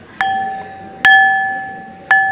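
A metal school bell is struck three times at even intervals, each clear ringing strike decaying slowly with no talk.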